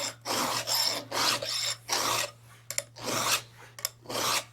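A hand file rasps across chainsaw teeth during sharpening, rotated slightly for each tooth: repeated loud, close gritty strokes of about half a second each, separated by short pauses and small metallic clicks, with a steady low hum underneath.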